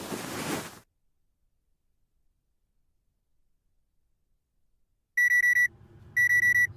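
A video game alarm clock in Penelope Pendrick rings in two short bursts of bright, rapid beeping after a long silence.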